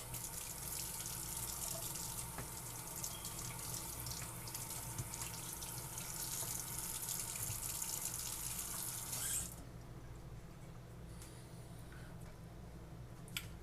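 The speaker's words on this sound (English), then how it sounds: "Give it a quick rinse." Tap water runs steadily while a whole mackerel is rinsed under a kitchen faucet, a close, continuous hiss that stops abruptly near the end, leaving a quieter background.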